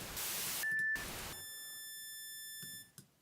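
A Logic Pro test oscillator sounds a steady electronic tone, alternating with bursts of hiss and a sustained pure beep with faint overtones, quiet and alone.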